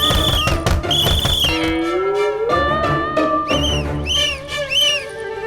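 A high, wavering whistle sounds from inside a room, rising and falling in repeated tones over a dramatic music-like backdrop in a Hindi fantasy television episode.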